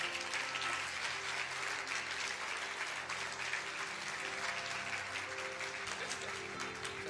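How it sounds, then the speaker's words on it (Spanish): Applause for the King fills a church retreat service in Canada, a loud sustained crowd clapping that runs unbroken throughout with faint voices mixed in. "Dale ese aplauso al Rey."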